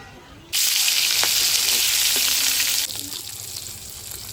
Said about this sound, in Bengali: তাই আমি বাকি মাছগুলো ভেজে নিচ্ছি